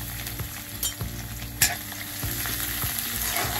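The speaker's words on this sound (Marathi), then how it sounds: "तेल गरम झालेलं आहे, त्याच्यामध्ये एक छोटा अर्धा चमचा जिरं आणि 8 ते 10 लसणाच्या पाकळ्या मी टेचून घेतलेल्या आहेत त्या टाकायच्या" Half a spoon of cumin and eight to ten crushed garlic cloves crackle and sizzle in hot oil for a green chilli side dish, a loud close hiss broken by sharp spatula scrapes and pops.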